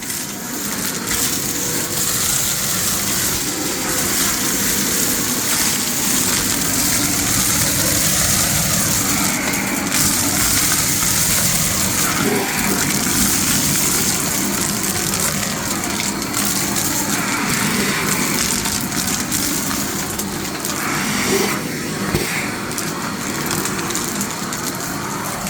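An EGO 56V cordless 9-gallon wet/dry vac on its turbo setting sucks up water, producing a loud, steady roaring whoosh that runs unbroken from start to finish with no talking.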